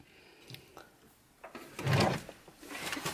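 A drawer in a DIY Sprinter camper van slides open with a short rumbling scrape amid quiet room sounds and faint voices.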